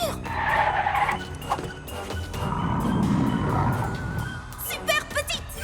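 A cartoon car skids with a high tire screech and a rumbling slide, set against music and brief voices in an animated children's show about friends heading to camp.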